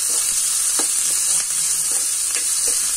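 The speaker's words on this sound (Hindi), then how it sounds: "इसको तो ज्यादा हमें फ्राई नहीं करना।" Green chillies fry in a pan, giving a continuous close sizzle and crackle with small pops and no voices.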